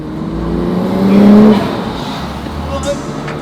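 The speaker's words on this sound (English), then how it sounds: "I could not resist a drive in a really cool looking drift car" A drift car driving through Tokyo on the way to Daikoku PA in Yokohama, its engine droning and revving up loudly with faint tire noise, heard from on board, with people talking over it.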